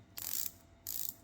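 Pagani Design PD-1696 automatic dive watch bezel turning, two quick bursts of fine rapid ratcheting clicks, close and crisp with a short pause between.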